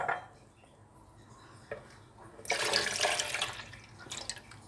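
Milk poured from a carton or jug into a blender jar for a homemade yogurt drink, a quiet trickle that swells into a louder, steady splashing pour midway, then tails off with a brief final gush.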